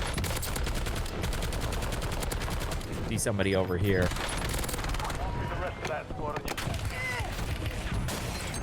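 Rapid gunfire in the video game Call of Duty Warzone, loud automatic bursts and repeated shots crackling through most of the stretch. Someone talks over it briefly.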